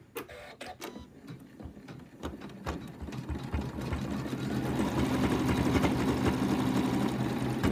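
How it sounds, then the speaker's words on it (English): An embroidery sewing machine stitches an in-the-hoop lamb toy, starting with scattered clicks and short whirs, then settling into a continuous, loud mechanical stitching hum with a rapid regular rhythm. "And then we start the sewing"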